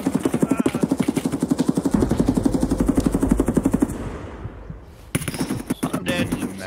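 Rapid automatic gunfire in Escape From Tarkov fires until the magazine runs dry, a steady loud stream of shots lasting about four seconds, then a short pause and a few fainter scattered sounds.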